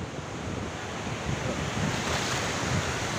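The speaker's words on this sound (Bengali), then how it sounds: "সমুদ্রের ঢেউগুলো একটার পর একটা আসতেছে" Sea waves on a wide, quiet beach at Cox's Bazar roll in as a continuous broad wash, with wind buffeting the microphone and the surf slowly swelling louder.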